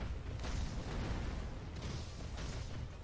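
Firecrackers bursting during a boss fight in the video game Sekiro: a dense, roaring wash of blasts and crackle that stays loud and continuous, with a few sharper bursts standing out.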